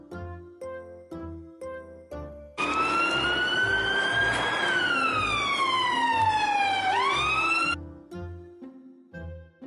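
A police car siren wails loudly, rising and falling in long sweeps, set between short bursts of rhythmic music before and after.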